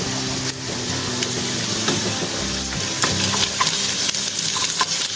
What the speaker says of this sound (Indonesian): Masukkan bawang, 1 gendul bawang bombay sudah diiris. Tumis hingga wangi.